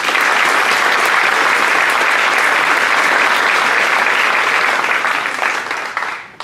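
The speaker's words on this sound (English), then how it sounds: "So big round of applause for all of them." A crowd at the Vermont bill signing for Bill S 135 gives legislators loud, full applause that holds steady for about five seconds before tapering off.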